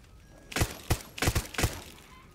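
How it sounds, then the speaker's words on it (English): Eggs smashed in the video game Far Cry 6, five sharp cracking bursts in quick irregular succession, close and crisp over a quiet background. "Smash the rest of the eggs?"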